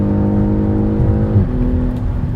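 BMW X6 40i M Sport with its inline-six and M Sport exhaust accelerating hard to overtake: a loud, steady engine drone that climbs in pitch and then shifts, heard close and alone with no talk.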